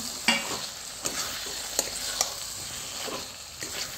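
Potatoes fried in a pan for chicken paneer curry, with a steady sizzle and a few sharp clinks of a spoon stirring them, no talking.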